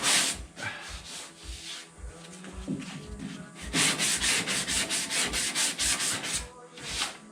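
Rhythmic back-and-forth strokes of a sanding block over fiberglass filler and epoxy on a car body repair panel, close and steady, with a faster, denser run of strokes in the second half and no talking.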